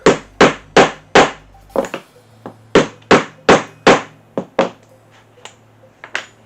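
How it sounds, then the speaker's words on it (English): Sharp hammer blows in quick bursts, four strikes, a pause, then a longer irregular series of loud close knocks with lighter taps between. "You don't need to hammer it in to bash it to death"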